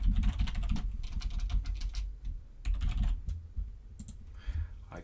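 Rapid keystrokes on a computer keyboard while a field name is entered in ServiceTracker admin software, clicking in quick bursts with brief pauses, close and clear with no talking.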